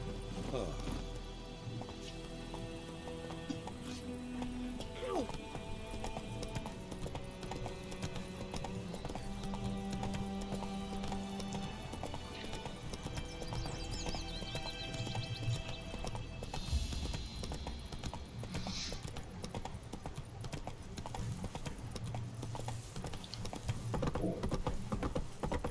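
The horse Roach clip-clops steadily on its hooves in The Witcher 3, with a brief whinny, under game music and ambience, while a voice talks at times.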